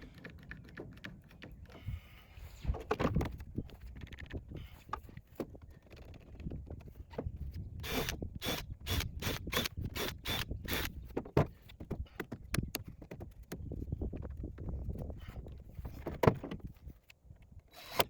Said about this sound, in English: I'm just using clamps to hold it all in place while I get the holes pre-drilled and the screws put in